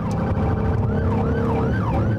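An ambulance siren wails in a rising and falling pattern at an overdose call outside a group home in Murfreesboro at night, steady and fairly close over the rumble of a vehicle engine.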